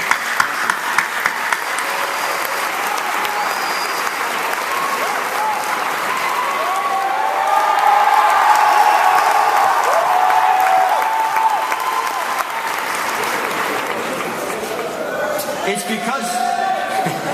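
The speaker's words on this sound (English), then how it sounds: "You deserve one round of applause for what you've done." A graduation crowd at a high school ceremony applauds the teachers, sustained clapping swelling mid-way with some cheering, then tapering as a voice resumes near the end.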